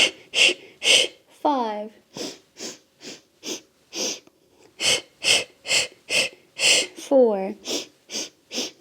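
Sharp rhythmic nasal exhales pulse in a steady series during a Pilates exercise, with an instructor counting aloud between the breaths and two longer breathy sighs in the middle.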